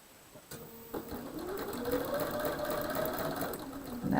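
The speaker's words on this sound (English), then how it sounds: "We'll sew these two together." A sewing machine stitching two quilt block pieces together starts with a couple of clicks, then settles into a steady rapid mechanical whir that grows slightly louder, close and alone.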